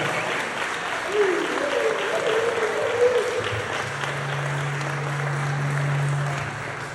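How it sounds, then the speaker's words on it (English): A crowd at a real estate wholesaling event gives a speaker a big round of applause, a sustained wash of clapping with cheering and a voice or two rising over it, plus a steady low hum. "let's get a big round of applause for Mr. Alex Camacho."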